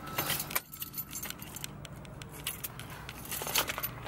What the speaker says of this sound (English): I've got my keys.